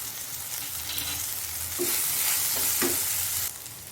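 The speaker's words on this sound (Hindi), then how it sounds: "हमारे अदरक लहसुन भी अच्छे से तेल में फ्राई हो चुके हैं।" Steady sizzling of ginger, garlic and spices frying in hot oil, with a few light scrapes of stirring, continuous and close.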